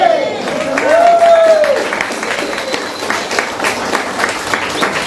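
Applause from a church congregation during a sermon, blended with a speaking voice and crowd noise at moderate level throughout.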